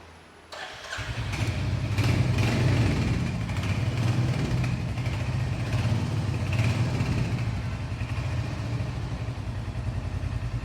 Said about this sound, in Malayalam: എക്സോസ്റ്റ് കേൾപ്പിച്ചാലോ?